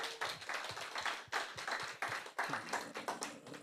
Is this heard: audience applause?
yes